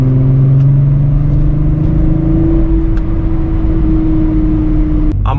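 Car cruising at speed on the German Autobahn, recorded from inside the cabin: a loud, steady engine drone and road roar with a slowly rising engine tone and no talking.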